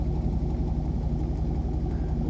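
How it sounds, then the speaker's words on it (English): A 1996 Chevrolet Silverado pickup, its check engine light acting up, idles steadily with a low, even rumble that stays loud and close throughout, with no voices. "I'm gonna let the truck idle here for a little bit"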